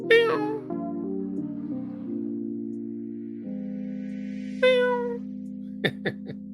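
A pet cat meows loudly near the start and again midway, with a steady humming tone underneath and a few short sharp sounds near the end.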